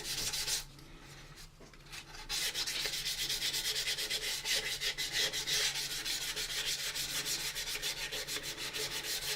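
Wet sanding with 400 grit sandpaper and a little dish soap on a plastic AMT 1983 U.S.S. Enterprise model kit, a steady close rhythmic rubbing that runs nearly throughout after a brief quieter pause near the start.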